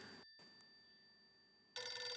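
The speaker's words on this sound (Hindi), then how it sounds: "तेरा फोन बज रहा है।" A telephone rings with a steady electronic tone, faint and alone in a quiet room, before a sudden louder burst of noise cuts in.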